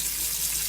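Tap water runs steadily into a sink in a home kitchen, rinsing and cooling just-boiled food for hummus, a constant close hiss with no other sounds.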